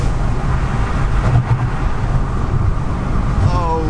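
Audi RS7, a high-mileage example, accelerating on the road, a steady low engine rumble with road and wind noise throughout, loud and close, rising slightly toward the end.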